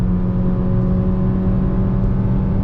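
A 2025 Honda City hatchback EX with a 1.5 CVT accelerates, its engine giving a steady, loud droning hum with a smooth, even whir and no shifts. Low road rumble underneath adds to the drone.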